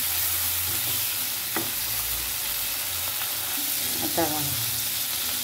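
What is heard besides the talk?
vegetables frying in a pan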